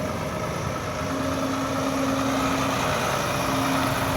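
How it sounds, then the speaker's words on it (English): Vehicle traffic rolling on and off the Wolf Islander ferry at the Wolf Island dock, a steady loud engine drone with idling hum and a sustained low tone, continuous throughout without talk. "it's gonna get a little loud here with all the traffic coming on and off."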